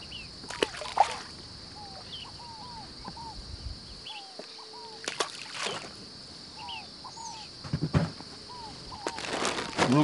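Fish feed pellets scattered onto Lake Furnas water land with several short splashes and sloshes, accompanied by bird chirps and a steady background hum.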